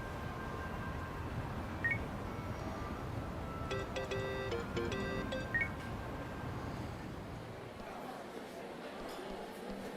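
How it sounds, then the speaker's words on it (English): Phone dialing in the video game Yakuza: Like a Dragon, a quick run of faint electronic key tones and beeps in the middle, set against a low background hum. "Kasuga, call me on your phone."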